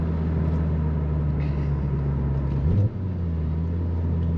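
Ford Focus RS 300++ engine roaring close up as the car accelerates hard, a steady loud low drone with a brief shift in pitch partway through, no voices.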